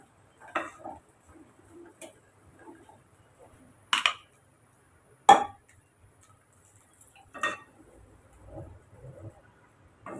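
A utensil stirs ground coconut paste and water into a bottle gourd curry in a metal pot, with sparse scraping and a few sharp clinks against the rim, close and fairly quiet.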